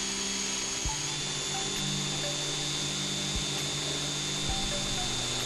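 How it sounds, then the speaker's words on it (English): A power drill with a step bit whirs steadily as it bores a hole through metal, with a grinding, rubbing bite and a few brief pauses. "install the uni bit into the drill and begin drilling your measured hole"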